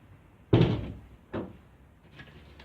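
A stubborn door is pushed shut with a loud thump, followed a moment later by a second, softer knock as it is forced again, then quiet room noise.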